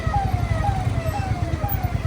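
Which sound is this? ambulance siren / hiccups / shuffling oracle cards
ambulance siren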